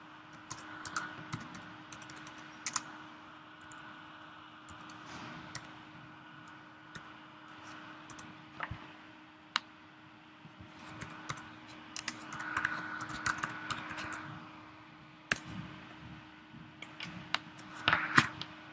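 Someone types on a computer keyboard while building a chronological timeline, with soft, irregular keystroke clicks and occasional louder taps sounding faint and close over a low steady hum, no talk.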